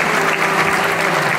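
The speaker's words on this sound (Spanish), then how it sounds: "Vamos a darle un fuerte aplauso a todos los talentos" Loud, steady applause from an event audience fills the moment without a break, dense and close, with no voices standing out.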